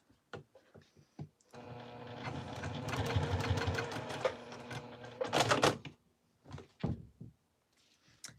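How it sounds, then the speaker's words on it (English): A Juki 2010q sewing machine stitches through five layers of vinyl in a loud, steady mechanical run of about four seconds, framed by a few sharp thunks and clicks before and after. "at 1, 2, 3, 4, 5 layers, my machine started skipping stitches"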